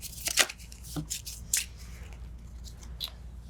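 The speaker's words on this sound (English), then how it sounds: "So this is a combat encounter. Mm-hmm. Gonna shuffle these real quick." Cards from the Tainted Grail board game are shuffled on a table, giving a few quick, close riffling and flicking bursts with brief pauses between them.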